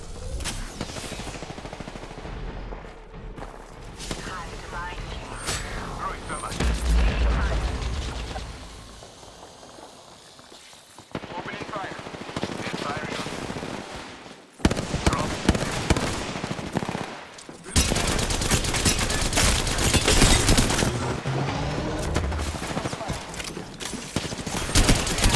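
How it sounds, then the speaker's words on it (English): Sustained gunfire rattles in Apex Legends as enemy shots hit the player, with bursts of automatic fire, a quieter lull mid-way, then louder dense volleys returning, and brief in-game voice lines mixed in. "I'm taking fire."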